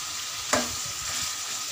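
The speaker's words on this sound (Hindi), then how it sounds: "चिकन हमारी भुन चुकी है" Chicken browning in a coal-fired karahi sizzles steadily, with a single sharp scrape of stirring near the start, then continued frying hiss throughout.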